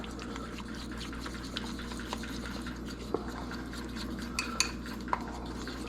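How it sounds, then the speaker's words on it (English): A fork whisks honey mustard marinade in a bowl, giving soft steady stirring with occasional light clinks of metal against the dish over a low background hum. "I like to use a fork to mix this up."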